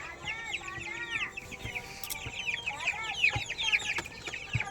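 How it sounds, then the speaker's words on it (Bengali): Chickens in a coop cluck and chatter continuously at close range, several birds overlapping with short calls and squawks, with scattered faint knocks and rustling underneath. "এখানে সব মুরগি আছে"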